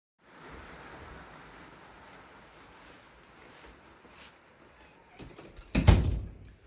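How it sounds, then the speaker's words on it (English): A door in a workshop back room slams shut once, a short sharp thud near the end after a stretch of quiet background hiss and a softer knock. "Shut the door."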